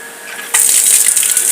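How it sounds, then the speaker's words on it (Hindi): Supply water from a household tap gushes loudly into a storage tank, starting with a sudden rush after a quieter moment and continuing as a steady, splashing flow. "तो और अब चल रहा है सप्लाई वाटर"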